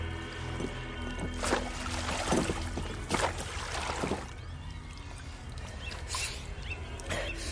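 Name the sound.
rowing boat on a lake, radio drama sound effect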